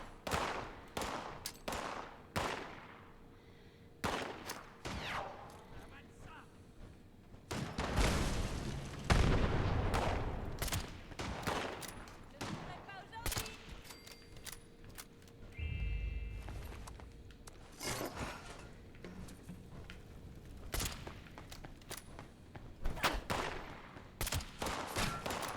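Machine gun fire in the video game Fallout 76, with repeated sharp bursts and single shots rattling out across the whole stretch, interspersed with heavier booming impacts and brief pauses between volleys.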